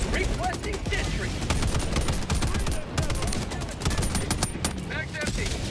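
A sentry turret blazes away in Helldivers 2, dense rapid automatic gunfire sustained throughout, loud and continuous amid chaotic battle noise, with occasional voices.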